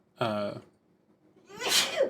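Two sneezes, one short and voiced, then after a pause a louder, breathier burst, close and alone.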